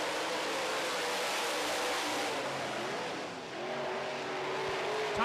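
Modified race cars lapping a short oval track, a dense loud roar of several engines with a brief tire squeal, the pitch swelling as a car passes close and then building again.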